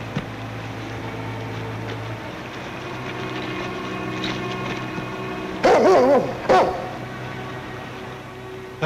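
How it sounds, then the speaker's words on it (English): A dog gives a couple of short barks partway through, over a steady low background hum and ambience in an old television drama. "There he is. There's that dog."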